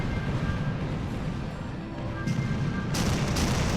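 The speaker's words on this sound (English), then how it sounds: "The commander of 2nd Corps Artillery, Jean-Baptiste-Édouard, advances with his cannons" Napoleonic-era cannon artillery firing at the Battle of Quatre Bras, heard as a dense, rumbling barrage of distant booms under a continuous roar, with no clear individual shots.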